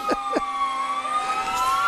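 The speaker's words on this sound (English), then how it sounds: "with the sirens and the engines going by" Fire engine sirens at a Toronto Christmas parade, a loud, steady wail with slowly gliding pitch and horn blasts near the start, close and filling the scene with no talk.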